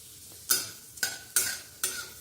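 Ginger frying in a pan is stirred in four distinct scraping strokes over a soft sizzle, each stroke sharp at the start and fading before the next, close and clear with no talking.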